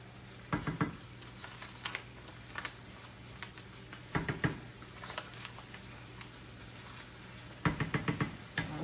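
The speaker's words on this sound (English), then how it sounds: "let me brown this up and put my taco seasoning in" Ground beef browning with taco seasoning in a pan: a steady, close sizzle broken by three bursts of scraping, clattering stirs, with no talking.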